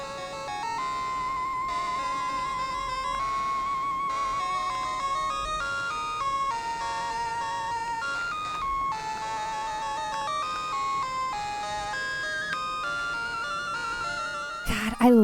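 The National Park theme from the Pokemon Gold video game plays as a bright, chiptune-style melody with steady repeating notes, continuous and fairly loud.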